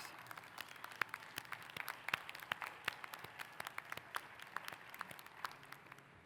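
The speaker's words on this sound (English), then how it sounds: "Give them a big round of applause." Faint, distant applause fills the hall at a College of Charleston commencement ceremony, many overlapping claps patter steadily for several seconds without speech.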